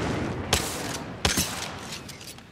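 Gunfire from enemies in the video game Apex Legends, with two sharp, loud shot bursts about three-quarters of a second apart over a steady hiss of game ambience.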